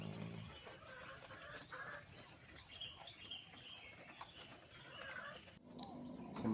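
Farmyard chickens cluck softly and intermittently while being fed in their pen, faint and spread out against a low outdoor background, with no speech.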